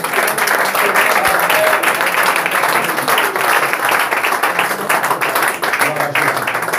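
A church congregation at a prophetic evening service in Côte d'Ivoire applauds, sustained loud clapping from many people that fills the whole stretch, with some voices and cheering mixed into the din.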